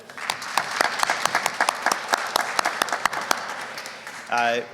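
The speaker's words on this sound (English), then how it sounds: "I think we should give them a round of applause if we could" Applause from the audience at a press conference announcing a HUD lead grant in Harrisburg, a brisk run of clapping that fills the room for several seconds, followed by a voice at the end.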